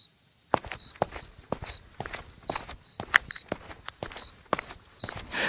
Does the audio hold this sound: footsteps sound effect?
yes